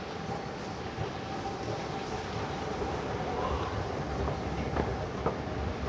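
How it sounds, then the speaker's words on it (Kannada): A metro train pulls into a Shenzhen subway station with a steady rumbling roar and a light rhythmic clatter building slightly, heard from the platform. "ಟ್ರೈನ್ ಬರುತ್ತೆ ಈಗ."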